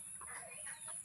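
A chicken gives a brief, close burst of soft clucking on a homestead where ducks and chickens are kept. Muffled voices sit faintly underneath.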